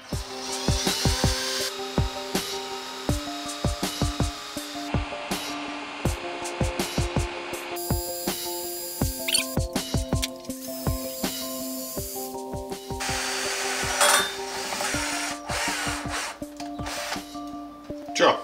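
A small drill bit bores into metal with cutting oil while working on the manifold pipes and flame starter of a Fiat Ducato motorhome with a 2.5 TD engine. The tool whines in repeated short bursts with brief pauses, close and fairly loud.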